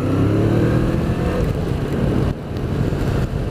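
A car maneuvering nearby, a loud, rough low engine rumble that shifts in pitch and intensity, fading slightly partway through, with no talking.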